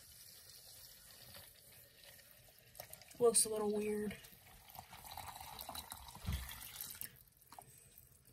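Cold water poured into a cold brew coffee maker gives a short, faint splashing gush midway, with a little trickling after, while a person speaks quietly nearby.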